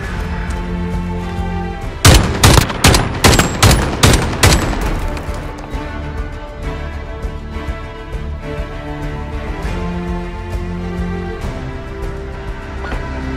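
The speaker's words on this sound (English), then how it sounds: "gunfire." Gunfire rings out in the Call of Duty Mobile video game, with a rapid burst of loud shots over about three seconds followed by a steady layer of game sound and music.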